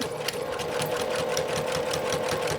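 A sewing machine back stitches a face mask keychain case with a quick, even mechanical rattle that runs steadily and fairly quietly throughout.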